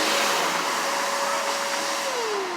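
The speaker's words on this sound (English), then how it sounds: "They vacuum it through, so it pulls it all the way through." Vacuum pulling fish tape and wire through a pipe, a loud steady rushing whine of airflow with a sustained tone that slides lower near the end, close and without talk.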